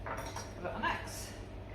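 Soy sauce, sugar and oyster sauce sauce with chicken stock being stirred in a pan, a few soft, brief clinks and scrapes of a utensil against the cookware, faint and close.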